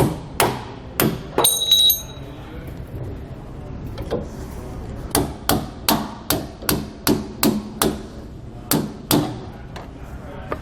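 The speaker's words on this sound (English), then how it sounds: "we can just go ahead and just tap these with a hammer to knock them off" Hammer blows on the nuts-off bolts of a 2013 Dutchmen RV's leaf spring suspension during a Roadmaster Comfort Ride kit install: a series of sharp metallic taps, some close together, others in an evenly spaced run, loud and close with no talk.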